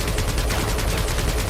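Rapid, dense automatic gunfire rattles loudly and continuously in Marvel's Guardians of the Galaxy game, a close, unbroken burst of shots with no talk.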